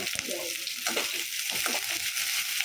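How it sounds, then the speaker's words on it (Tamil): Chopped onions with coriander and curry leaves fry in oil in a pan for a potato samosa filling. The hiss is short, steady and close. "எல்லாம் போட்டு நல்லா கொஞ்சம் வதக்கிக்கணும்"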